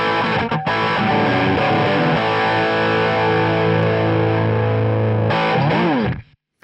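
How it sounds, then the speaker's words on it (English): Crunchy overdriven electric guitar through a Friedman Buxom Betty amp plugin for UAD, loud sustained distorted chords ringing out, a short break near the start, then fading to silence at the end. "It's the sort of distortion sound that I actually really like."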